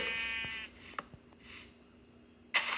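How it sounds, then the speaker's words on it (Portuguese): Several short sheep bleats from a video game, a small sheep in the scene, repeating in quick bursts near the start with a louder sharp sound at the end; no talking. "Outra ovelha aqui na frente, ó. Pequena, Uma ovelha pequena."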